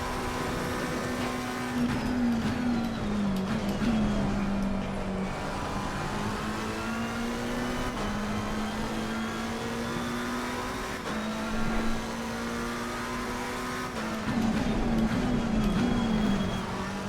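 In a racing video game, the engine of the older McLaren race car drones steadily at speed, rising and dipping with gear changes and throttle, with no talk over it.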